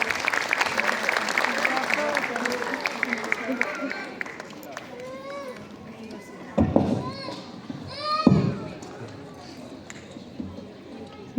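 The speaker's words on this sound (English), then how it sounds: "Give her a huge round of applause." Applause from parents and guests at a preschool graduation ceremony fills the first few seconds, then thins and fades as children's voices and chatter take over, with a couple of louder bumps and shouts near the end.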